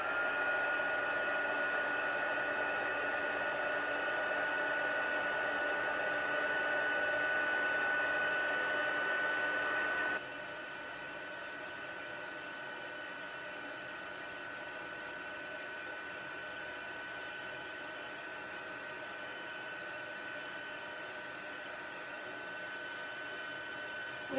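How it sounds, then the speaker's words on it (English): Embossing heat tool on high heat melting embossing powder on paper, a loud steady hot-air roar that drops to a somewhat lower, still continuous blowing level partway through, with no talking. "So now we're just going to emboss. It's going to get loud because I'm going to use the high heat."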